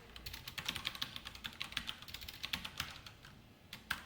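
Code is typed on a computer keyboard in a quick, steady stream of close, crisp key clicks with only brief gaps between them.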